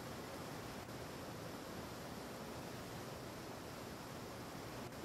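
Steady broadband rush of a waterfall in the Super Dive video game, a constant even wash of falling water with no pauses and no talk.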